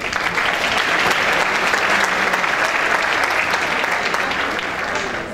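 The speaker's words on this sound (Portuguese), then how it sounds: "uma salva de palmas para Eduardo Pegorini" Dense, steady applause from a seated audience at a sanitation panel discussion welcoming a Sanepar representative, loud and sustained for several seconds without pause.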